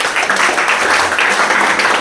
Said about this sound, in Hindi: मैडम के लिए जोरदार ताली।